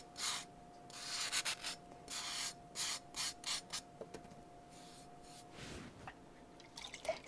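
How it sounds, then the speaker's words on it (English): Repeated wet rubbing strokes in short bursts, a gritty scraping with faint dripping, close up and steady, with a thin tone humming underneath: sandpaper wet-sanding clay to remove burrs. "that's why we're wet sanding"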